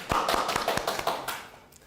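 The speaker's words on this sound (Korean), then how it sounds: "네, 박수 한번 부탁드립니다" Brief applause from a forum audience, a short run of claps that thins out and fades within about two seconds, with no speech over it.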